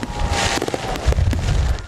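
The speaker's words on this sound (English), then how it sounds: "Every summer, the July sky shines bright with fireworks." Fourth of July fireworks burst in a quick run of sharp cracks and pops over a rumbling background, fairly loud, with no voices.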